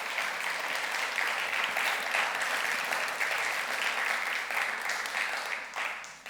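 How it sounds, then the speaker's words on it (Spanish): A church congregation breaks into sustained, strong applause during a sermon, a thick, even wash of clapping from many hands that holds steady and begins to fade near the end. "Denle un aplauso fuerte al Señor por eso."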